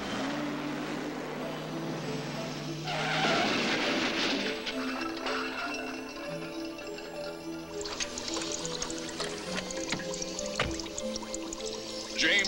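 A cartoon staff car pulls away with a burst of whooshing engine noise and rushing, skidding effects, followed by scattered clattering sound effects over a quiet background.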